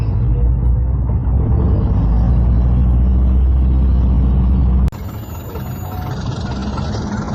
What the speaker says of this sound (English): Tommy starts the car again.